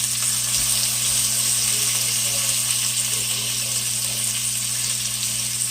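A grouper fillet sizzles in a frying pan, giving a continuous close hiss of hot oil over a low steady hum, even in loudness throughout, with no voices.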